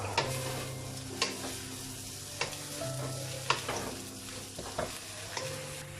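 Chilli parotta gets stir-fried with sauce and onions, with a spatula scraping and clacking against the pan at irregular intervals over a steady sizzle, alone and close by.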